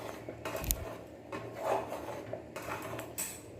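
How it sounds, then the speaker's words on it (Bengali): A spoon stirring crumbled chhana with spices and chopped coriander in a pot, making a few soft scattered clinks and scrapes against the metal, quiet and close, with no talk. "এবার একটি চামচ দিয়ে সব কিছু ভালো করে মিশিয়ে নিচ্ছি।"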